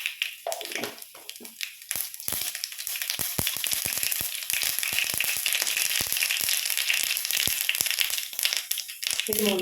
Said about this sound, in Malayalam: 1 ടീസ്പൂൺ കടുക് ഇട്ടു.